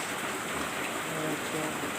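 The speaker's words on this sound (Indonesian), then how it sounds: "ieu da aya hujan" Steady rain falls throughout, a continuous broadband hiss with faint patter, heard during a Sundanese religious sermon gathering.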